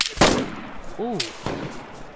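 Gunfire from an M4 rifle in the survival game DayZ, with a few sharp broadband shots spaced apart across the clip, loud and fairly close, along with a short tonal in-game sound.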